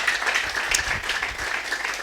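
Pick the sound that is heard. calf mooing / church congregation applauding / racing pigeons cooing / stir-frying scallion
church congregation applauding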